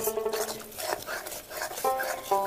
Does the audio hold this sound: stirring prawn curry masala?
yes